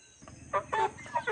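Hens with their grown chicks give a short run of four close clucks and squawks over a faint background hum, with no talk.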